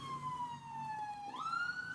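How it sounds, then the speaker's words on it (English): An ambulance siren sweeps past with a long wailing tone that drops slightly, then jumps up in pitch as it passes, fairly loud and alone with no talk over it. "ambulance. Sorry about that, ambulance."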